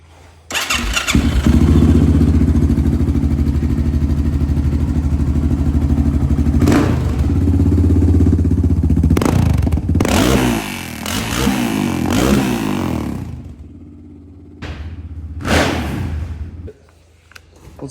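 Fuel-injected Yamaha Raptor 700 ATV quad engine with power commander, running loud and close at a steady idle for several seconds, then blipped through a few revving surges with clattering before dropping off.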